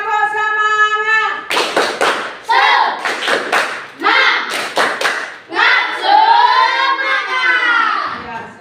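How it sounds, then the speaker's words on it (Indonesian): A group of voices chants while clapping in sharp, rhythmic bursts, the claps landing together in a set pattern between sung phrases. "Tepuk semangat."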